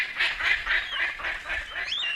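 Palm cockatoo in Australian rainforest giving a series of loud, harsh, honking calls repeated in quick rhythm, close and continuous with no speech.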